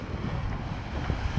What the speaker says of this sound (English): Look at this gust, it's coming for us.